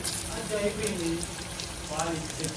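Dried chilies, cumin and garlic crackle in hot oil with a dense, continuous sizzle, while a voice speaks faintly underneath.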